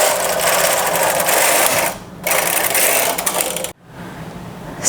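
A knitting machine carriage is pushed across a row on a drop-shoulder sweater, giving a steady loud whirring clatter that runs for about two seconds, breaks briefly, resumes, then stops with a short gap before starting again.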